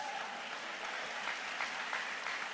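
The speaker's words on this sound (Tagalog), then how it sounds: "Pero ngayon, dito, pwedeng pumalakpak ng malakas." Members of a church congregation clap loudly together, a continuous, even patter of many hands heard from some distance, with no voices standing out.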